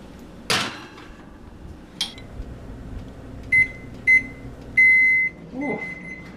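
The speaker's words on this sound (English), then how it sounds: "I turn off that annoying sound. Timer." A kitchen timer beeps in a home kitchen during chocolate muffin baking, sounding a few short electronic beeps and then one longer beep, close and clear, with a couple of soft knocks and brief faint voices nearby.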